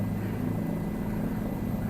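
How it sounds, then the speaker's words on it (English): Helicopter flying in Microsoft Flight Simulator 2024, a steady close rotor and engine drone with low throbbing, continuous and unbroken throughout. "I know I'm pushing this helicopter"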